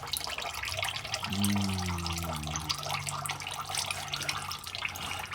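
Automatic transmission fluid drains in a steady, splashing trickle from a 1954 Chevrolet Powerglide transmission, a continuous liquid pour heard up close alongside a low humming tone.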